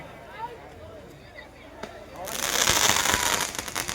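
Festival fireworks outside a temple during Shiva's Gajan burst into a loud, sustained crackling roar partway through, after a quieter stretch of scattered pops and faint background noise, as wind picks up.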